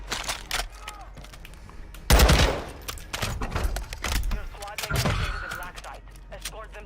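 AK rifle fire in Warzone: scattered shots and a heavier burst of gunfire crack out amid game noise, with a player talking over parts of it.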